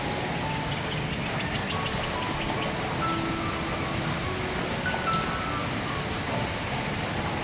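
Steady rain falls over the countryside of Surin province, Thailand, on an overcast evening, a continuous dense patter of drops on surfaces with no voices, even and moderately loud throughout.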